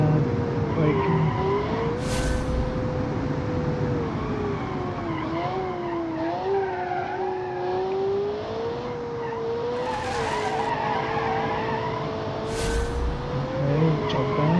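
In BeamNG.drive, a custom-built car from the Automation game brakes hard, its tires squealing and skidding in a long wavering tone over a steady engine drone, with a few sharp bursts of scrubbing noise.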